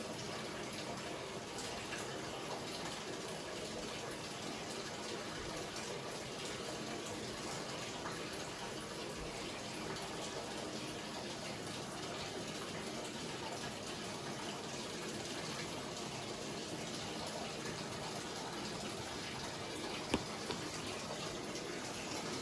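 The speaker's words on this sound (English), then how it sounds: "Just going to continue to let that fill up with water." Water pours steadily into a tub, a constant rushing gush with no pauses, filling the space at moderate volume.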